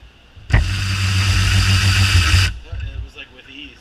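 A Snap-on or AC/Delco cordless ratchet wrench spinning a bolt off, a loud steady motor whir lasting about two seconds that cuts off abruptly, followed by brief talk.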